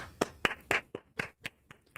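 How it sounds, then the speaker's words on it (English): A single guest clapping for herself in a live studio show: sharp separate claps close to the microphone, about eight in a fairly even rhythm, with quiet gaps between. "Clap for yourself."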